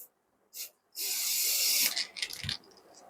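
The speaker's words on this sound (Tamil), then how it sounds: "ஸோ இப்போ நான் ஸ்ப்ரே பண்ண போகிறேன்." A spray paint can hisses in a steady burst of close, loud spray for about a second, preceded by a short puff and followed by a few brief sputtering sprays and light handling noises.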